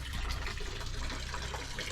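Water running into a stone trough at Hascombe's old stone village fountain, a steady close gushing flow.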